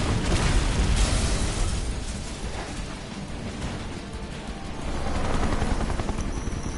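Helicopters in Final Fantasy VII Remake, a dense loud rotor roar mixed with explosive booms and bursts of gunfire, continuous and without any talk.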